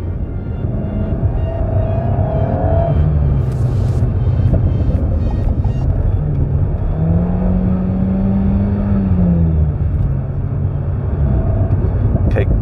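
An Alpine A110 S sports car on a short test drive, its engine rumbling and whirring steadily from inside the cabin as it accelerates and shifts, with occasional brief voices and movement over the drone.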